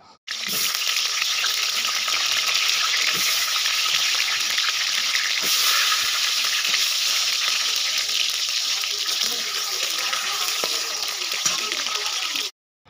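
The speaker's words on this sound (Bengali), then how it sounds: "তেলটা গরম হয়ে এসছে, কেটে রাখা আলু আর রসুনগুলো দিয়ে দিলাম।" Loud, continuous hissing sizzle of cut potatoes and garlic frying in hot oil, steady throughout, with no voices.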